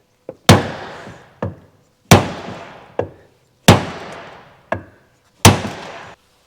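Hammer blows on a wooden block set against a car door shell, working a high spot where the door skin is rolled over: five sharp, loud, ringing strikes at steady intervals, each answered by a smaller rebound knock, with no talking.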